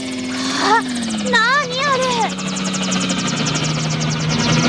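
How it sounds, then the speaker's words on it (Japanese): A helicopter in a Japanese puppet drama sends a steady low engine drone under the scene, with animal-like cries and a voice speaking briefly over it. "ヘリコプターだ。 ランカーのヘリコプター"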